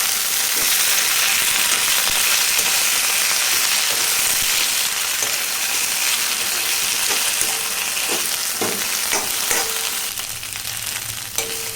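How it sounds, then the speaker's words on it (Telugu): Green chillies sizzle steadily in a hot pan as mint and coriander leaves are added and frying, a loud continuous hiss broken by a few scraping stirs near the end. "పచ్చిమిరపకాయలు ఇలా కొంచెం వేగిన తర్వాత పుదీనా, కొత్తిమీర కూడా వేసుకొని వేయించుకోవాలి"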